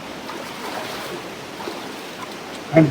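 Water rushes at Devarakona waterfalls as a soft, continuous roar with light splashing texture, steady and somewhat distant, ending with a brief louder bump near the close.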